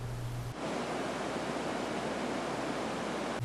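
Small waterfalls tumble between round green stream pools in a glen, a steady broadband rush of falling water filling the whole stretch after a brief low tone at the start.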